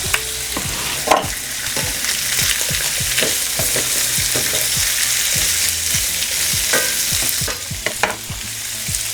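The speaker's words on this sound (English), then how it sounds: "now I'm gonna turn this pan up a little, and we're gonna go in with our potatoes." Cooked potatoes fry and brown in a hot pan, giving a steady loud sizzle broken by frequent stirring clacks and scrapes throughout, with no talking.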